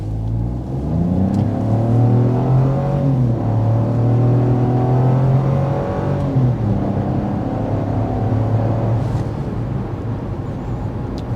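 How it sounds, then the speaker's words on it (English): Inside a 2024 Buick Envista, the engine roars under hard acceleration, its pitch climbing through gear changes in a continuous loud drone. "how much noise is entering the cabin when the engine is under stress"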